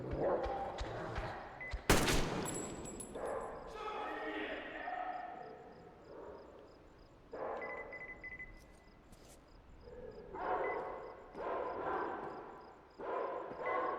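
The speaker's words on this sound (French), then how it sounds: "J'aime pas trop quand il y a les chiens" Dogs bark and yip in the video game Metro Exodus amid gunfire and thuds, irregular bursts near and far, with someone talking over parts of it.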